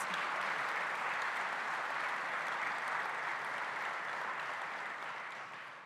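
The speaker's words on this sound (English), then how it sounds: "so another big round of applause for Ken Nunn at the Ken Nunn Law Office." An audience at a community event applauds, a dense, steady wash of clapping that holds strong for several seconds before starting to fade at the end.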